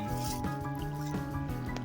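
Irrigation water runs along a furrow in a farm field, making a continuous close liquid gurgle with rhythmic dripping and sloshing pulses and no talk.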